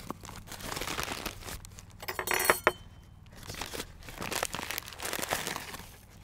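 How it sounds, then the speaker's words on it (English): A plastic Ziploc sandwich bag crinkles close up in a kitchen while it is handled for a dessert with sugar, in bursts of rustling with a brief clink in the middle and no talk. "put it in a Ziploc sandwich bag"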